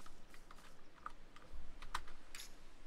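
A few computer keyboard keys are pressed during Crowfall gameplay, scattered close clicks over a quiet background, one or two a little sharper than the rest.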